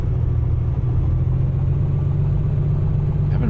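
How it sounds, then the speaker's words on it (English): A PA-24 piston aircraft engine runs steadily in Microsoft Flight Simulator 2024, a loud, continuous low throbbing drone below full power, heard alone. "The engine sounds okay now."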